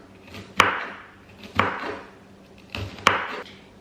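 A knife chops finely through coriander and red onion on a board, giving four sharp, close knocks in an uneven rhythm, each followed by a short scraping rustle.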